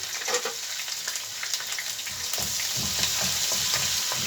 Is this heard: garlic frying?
yes